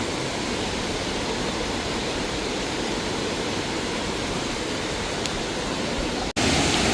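A waterfall pours at Nanemachi or Kumbe waterfalls in Maharashtra, giving a loud, continuous broadband rush of falling water with no talking, then a brief cut near the end.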